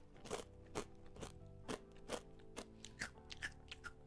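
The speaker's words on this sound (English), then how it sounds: "from the mic, I'm sure you can tell that it's very nice and crunchy" Spicy sticky tapioca chips crunch sharply in a series of crisp bites, about ten close crackling snaps spaced roughly half a second apart, with no talking.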